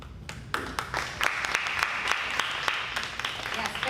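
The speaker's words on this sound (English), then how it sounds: "special round of applause for that." An audience at a community music showcase applauds after a performance, steady clapping that is fairly close and moderately loud, with voices talking over it.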